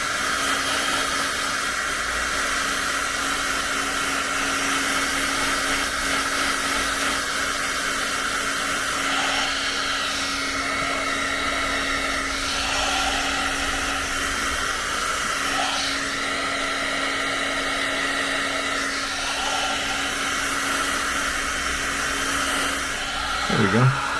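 A hair dryer drying watercolor paint on paper, a steady moderate whir with a constant tonal hum running for the whole stretch, no speech over it.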